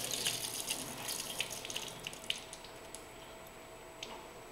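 Water drains and trickles from a pool salt chlorinator manifold, heard as a steady close splashing with scattered drips and small gurgles that slowly thin out, and no voices.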